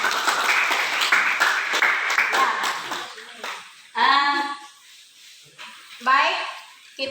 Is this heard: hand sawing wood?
no